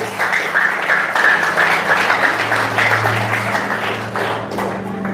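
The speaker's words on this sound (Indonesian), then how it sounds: "Beri tepuk tangan untuk Tuhan kita." A congregation at a healing revival service in a hotel ballroom claps together in a steady, loud wash of applause, with a low sustained musical hum underneath and the clapping thinning toward the end.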